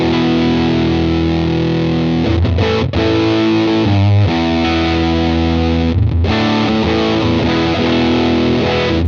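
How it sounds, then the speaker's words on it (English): An electric guitar plays through a Big Muff 2 distortion pedal, giving a thick, fuzzy, sustained tone. Chords are held loudly and shift with a few brief breaks, with no voices. "So this is the sound of the new Big Muff 2."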